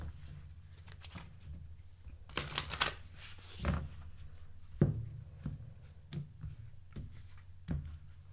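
Tarot cards are drawn from the deck and laid out on a table, with soft shuffles, sliding swishes and scattered light taps and clicks at irregular intervals, close and fairly quiet.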